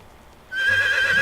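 After a moment of near silence, a horse in the video game Medieval Dynasty gives a short, bright neigh that holds a steady high pitch until the end.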